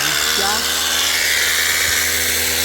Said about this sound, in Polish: Do tego dorzucamy wiertarkę 620